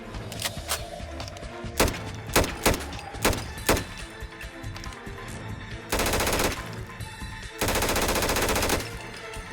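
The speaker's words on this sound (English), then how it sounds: "NIArms HK416 by LegacySlayer and TODD. This mod is really insane, starting with insanely detailed models, custom sounds and reload animations." HK416 rifle fire from a Fallout 4 mod with custom sounds: loud, sharp single shots and short bursts, followed by two sustained automatic volleys, all close and dense with no talking.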